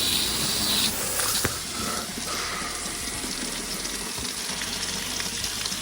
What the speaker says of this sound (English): I am going to blow a little bit of water through this to make sure I clean all the pipes out